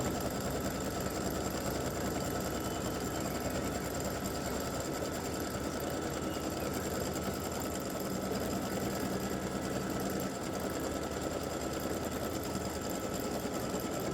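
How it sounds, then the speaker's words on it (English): An embroidery machine stitches folds and definition into an appliqué bow on an elf legs design, a steady, continuous rapid mechanical whir and needle chatter running evenly throughout with no voices. "it'll stitch all the little folds and put some definition in this bow"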